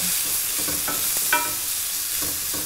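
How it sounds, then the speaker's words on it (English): Jalapenos and shrimp sizzle in a stovetop pan with a constant, fairly loud frying hiss, while a utensil stirs and scrapes through them with a few soft clinks. "So now I'm adding in those jalapenos, just to give a little bit of heat."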